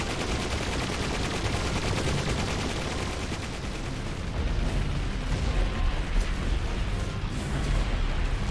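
Battle gunfire during a full-scale attack in the video game Final Fantasy X-2, a dense, continuous roar of rapid shots and blasts that stays loud and steady throughout.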